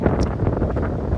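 Steady wind buffeting the microphone outdoors, a loud broadband rush with gusty rumble throughout and no talking.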